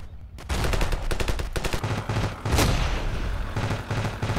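Rapid automatic gunfire in the video game Ravenfield, dense bursts of close, loud shots with brief gaps and a few heavier single reports, continuing throughout with no talking.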